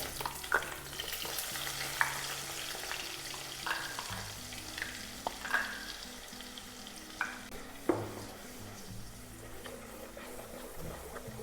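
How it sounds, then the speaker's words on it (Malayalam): A freshly ground paste fries in a hot pan, a soft, quiet bubbling sizzle broken by occasional sharper stirring scrapes and clicks of the spoon. "ഇനിയിപ്പോൾ നമ്മൾ അരച്ച് വെച്ചിട്ടുള്ള അയർ പേസ്റ്റ് ഇതിലേക്ക് അങ്ങ് ഒഴിച്ചു കൊടുക്കാം"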